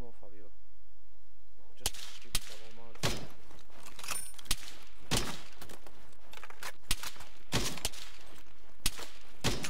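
Gunfire in the military shooter game Arma 3, a run of sharp broadband shots spaced irregularly across the clip, some close and loud, under people talking over game audio.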